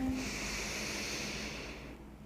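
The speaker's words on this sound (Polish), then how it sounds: "Spokojne, długie oddechy." One long, slow breath during a yoga session is heard as a soft, airy hiss that holds steady and fades near the end, close and quiet, with no speech.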